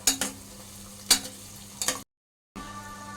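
Ginger garlic paste fries in hot oil while a spoon stirs it, giving a close crackling sizzle marked by a few sharp scraping strokes; it cuts to half a second of silence, then the sizzle returns.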